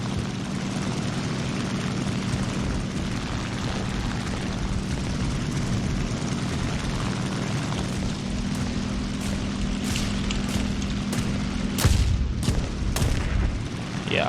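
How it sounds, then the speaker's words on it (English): Flak anti-aircraft fire bursting around a Japanese A7M1 fighter in War Thunder, a few sharp cracks late in the clip over the steady droning roar of the propeller engine. "Oh, that's flak."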